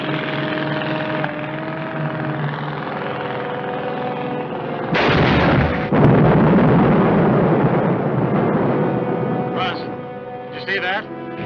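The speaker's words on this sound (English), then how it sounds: "We called in mortar fire from somewhere on the other side of those hills." Mortar fire in the 1955 Korean War film Battle Taxi: a loud, heavy burst booms and rumbles over a steady mechanical drone, then fades into smaller crackling hits.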